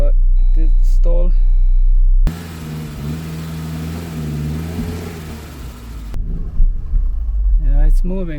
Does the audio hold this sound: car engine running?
yes